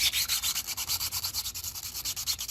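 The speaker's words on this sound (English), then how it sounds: "And then I'm going to take my sandpaper," Sandpaper smooths a 3D printed resin part for a 1/64 scale feed trailer model, in quick rhythmic back-and-forth strokes, close and steady, about ten rasping passes with no speech.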